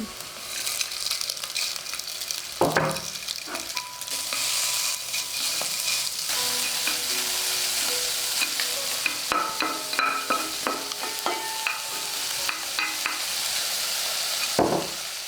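Mushrooms and dried shrimp stir-fry in a wok under a loud, continuous sizzle, with occasional scraping clatters of the spatula against the pan.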